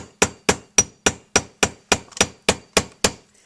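Eleven sharp, evenly spaced hammer strikes ring out close up as wire is flattened for a wire tree of life, each hit a crisp metallic tap that decays quickly.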